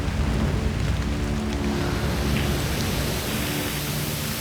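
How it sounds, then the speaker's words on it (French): Heavy, steady rain in the Philippines pours down without a break, a dense broadband roar with low rumbling underneath, loud and close throughout. "Il pleut intensément depuis la veille au soir"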